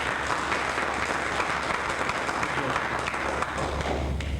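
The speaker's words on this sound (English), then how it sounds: "my turn to clap." Sustained applause from a room of workshop attendees at a final session, many hands clapping in a dense, even wash that holds steady throughout, with a low hum beneath.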